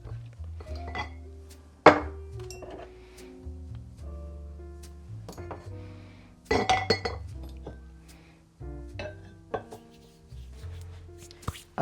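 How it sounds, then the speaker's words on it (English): Small ceramic espresso cups clink against glass canisters in a quiet kitchen, with a series of sharp, close clinks and knocks spread across the clip, including two louder impacts. "So to these glass canisters, I'm going to add the little espresso cups that I got from Hearth and Hand."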